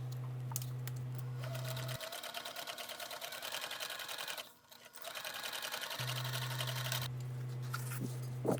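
A sewing machine bastes the raw edges of a folded bag lining pocket, running in steady rapid stitching bursts with a brief pause in the middle, close and moderately quiet.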